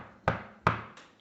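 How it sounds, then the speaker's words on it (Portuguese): Two sharp raps on a door, evenly spaced about 0.4 seconds apart and fairly close, followed by a fainter third tap, with nothing else around them. "Bateu na porta."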